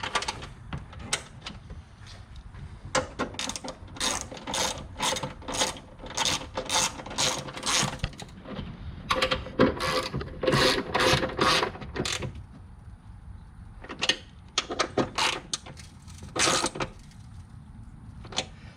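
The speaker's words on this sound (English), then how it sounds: "Either a deep socket or just an open wrench, box wrench will do it." Ratchet wrench with a deep socket turning a hood lift bolt on a Fiat 124 Spider or Mazda MX-5 ND, heard as rapid bursts of sharp clicking, close and loud, stopping and restarting several times with short pauses.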